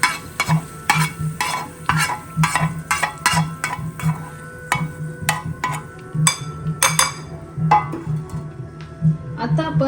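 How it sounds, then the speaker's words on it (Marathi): Hot tempering is poured over cucumber salad and stirred with a spoon, giving a faint sizzle under rhythmic clinks and scrapes against the bowl, close and moderately loud, with a little speech. "आता आपली फोडणी आपण टाकू आपल्या काकडीमध्ये."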